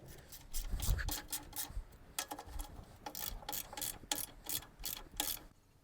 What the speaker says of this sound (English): So then we put the nuts on the top, and then those are 12mm nuts that we can tighten in